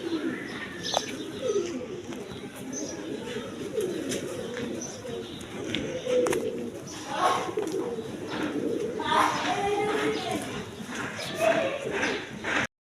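High-flying Giribaz pigeons coo in a farm loft, a soft, repeated low burbling spread throughout under someone talking, with occasional wing flutters and knocks.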